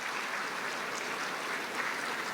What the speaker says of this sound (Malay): Dengar sekali tepukan lagi kuat-kuat sikit.